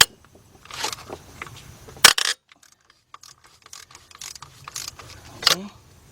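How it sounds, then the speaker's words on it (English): A ratchet with a 14mm deep socket on a 3/8-drive extension loosens bolts during timing belt and water pump work on a Hyundai/Kia V6, giving bursts of rapid clicking separated by pauses and metallic clanks. "now we got a 14mm deep with my 4-inch 3/8 drive extension, and what I'm gonna do is loosen them all up"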